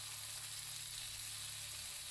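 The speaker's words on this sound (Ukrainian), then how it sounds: "ось таким чином вклала на суху сковорідку і на великому вогні обсмажую" Meat sears in a dry frying pan over high heat, giving a faint, steady hiss and sizzle that stays even throughout with no talk.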